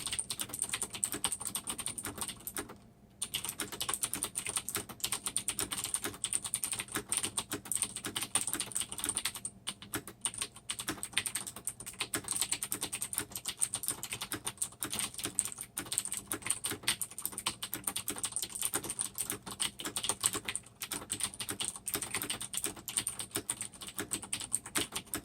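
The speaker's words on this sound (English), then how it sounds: "I'll let you guys enjoy the sound of the awesome symphony of the blue switches" Steady typing on a mechanical keyboard with blue switches, a dense run of crisp clicky keystrokes that goes on for a long stretch with only a few brief pauses, close up and with no voices.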